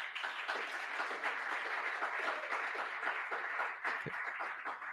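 Steady applause from a meeting audience, moderately loud and continuous for the whole stretch, with dense overlapping claps and no speech over it.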